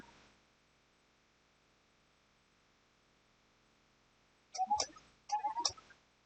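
A print maker sends a lemon design to print on a wooden spoon: a long stretch of faint electrical hum, then two short, close bursts of whirring and clicking from the machine near the end.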